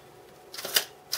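Waist-level viewfinder on a Mamiya RB67 Pro medium-format camera being flipped up, a quick close mechanical clack followed by a smaller snap.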